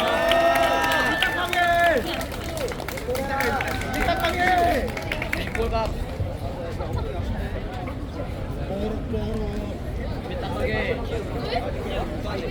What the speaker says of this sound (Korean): 저 여러분 저 박수 한번 앵콜 박수 부탁합니다